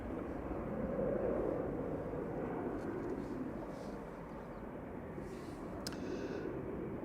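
A KLM plane arriving from Amsterdam at Manchester Airport gives a steady, distant jet roar, low and faint, holding for several seconds with little change.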